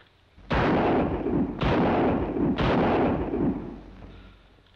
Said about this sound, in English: Oh, I'm sorry. I didn't mean to shoot it.